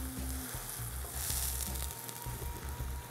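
Mushrooms fry in a pan, browning on one side, with a steady, moderately quiet sizzle and faint crackle, heard close with no talking over it.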